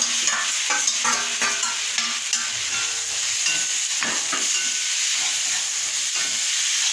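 Fried boiled potatoes being stirred into a sizzling tomato paste in a pan, a continuous close hiss with soft scraping and occasional clatters of the spoon.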